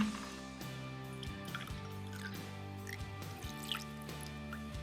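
Blended whiskey trickles into a glass in a soft, steady pour with faint dripping, close and quiet, with no voices.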